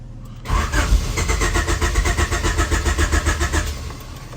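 A turbocharged Honda H22 engine in a CB7 cranks repeatedly without catching, a loud, close, rhythmic starter churn with steady pulses lasting about four seconds.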